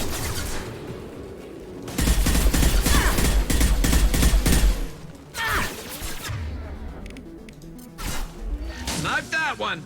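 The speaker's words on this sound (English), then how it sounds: "There's a lot of gunfire going on over it." Heavy automatic gunfire and firefight effects in the video game Mass Effect 2, loud and dense for several seconds, then thinning into scattered shots and impacts.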